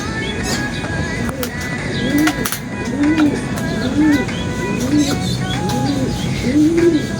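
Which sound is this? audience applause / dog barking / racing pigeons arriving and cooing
racing pigeons arriving and cooing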